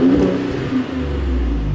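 Second-generation Ford Raptor pickup truck engine revving to around 3,000–3,500 RPM, a loud, close, steady rumbling engine note that holds and swells slightly with no talking.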